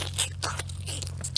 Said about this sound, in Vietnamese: Ăn cánh gà nha các bạn.